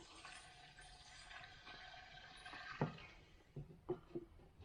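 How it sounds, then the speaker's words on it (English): Liquid is poured through a strainer into the tank of a ten-year-old Harbor Freight 800 W generator. The trickling, splashing flow is faint and steady, ending in a few soft knocks. "I'm going to leave the strainer in it and I'm just going to pour it right in"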